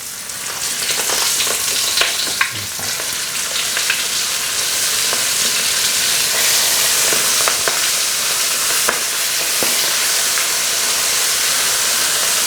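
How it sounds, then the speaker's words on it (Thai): Flour-coated shrimp dropped in batches into hot oil already used for frying garlic, a strong, dense, steady bubbling sizzle with occasional sharper crackles, close and loud throughout. "ทยอยลงไปทอดในน้ำมันที่เราทอดกระเทียมเมื่อกี้นะครับ"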